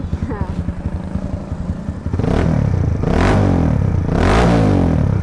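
A Kawasaki KLX supermoto with a stock, never-rebuilt engine idles in a lumpy putter, then revs hard in several loud, rising bursts at close range.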